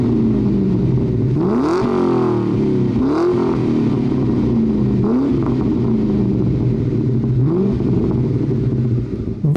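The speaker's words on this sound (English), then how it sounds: "This car has an aftermarket exhaust. It's the only modification to this Cobra, and it sounds fantastic." A Ford Mustang Terminator Cobra engine with a loud aftermarket exhaust idles with a deep rumble, then is revved several times, each blip rising sharply and falling back.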